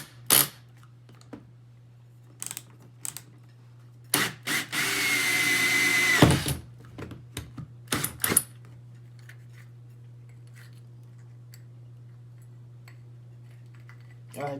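Power drill boring holes into a DIY high-pressure aeroponic root chamber: one sustained close whine of about two seconds among scattered knocks and handling clicks, then mostly quiet under a steady background hum.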